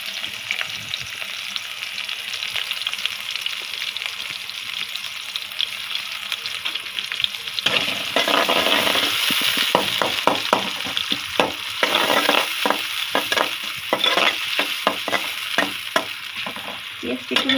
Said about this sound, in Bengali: এতে এখন পেঁয়াজ দিয়ে দিচ্ছি।